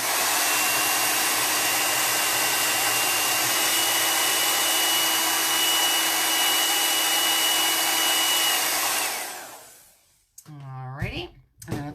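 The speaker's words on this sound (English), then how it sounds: "I'm going to use my blow dryer real quick." A handheld blow dryer runs loud and steady, drying chalk paste on a craft surface, then cuts off near the end, leaving a few brief sounds.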